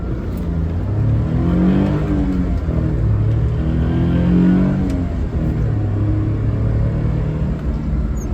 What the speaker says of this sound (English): I'll do an acceleration test once I get some room.